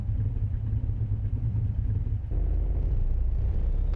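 A car with a Hemi engine pulls up alongside in a trucking video game, its steady low rumble holding throughout and deepening and growing louder partway through.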